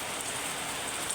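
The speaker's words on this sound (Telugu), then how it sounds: "చూసేయండి, వానలైతే మస్తు పడుతున్నాయి" Heavy rain pours steadily in a dense, even hiss of falling drops on surfaces outdoors, with no voices.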